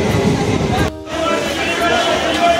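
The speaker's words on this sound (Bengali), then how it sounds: "ট্রেন এখন এসে পৌঁছলো লক্ষ্মীকান্তপুর 6:58।" A commuter train from Sealdah pulls into Lakshmikantapur station on the Namkhana line, a close, low rumble with a short drop in the middle and people talking over it.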